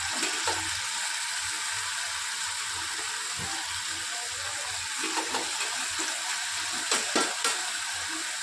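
A crispy brinjal and Maggi snack is tossed with soy sauce and masala in a hot pan. A continuous close sizzle hisses throughout, broken by a few light scrapes and knocks toward the end, with no voices.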